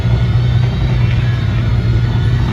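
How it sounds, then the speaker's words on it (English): Mercedes-AMG Project One hypercar in race mode with its flaps up, at an outdoor supercar festival on a runway. A loud, steady low engine rumble holds for a few seconds with no speech. "There it is, the AMG Project 1 in race mode with the flaps up."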